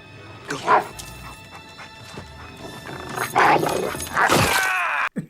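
A dog yips and barks close by, mixed with whimpering and rustling movement; the noise rises and falls in short excited bursts.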